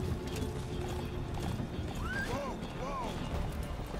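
Horse hooves clip-clopping and a horse whinnying in the Metal Gear Solid V video game, with repeated neighs over steady hoofbeats and game ambience, while a person talks over it.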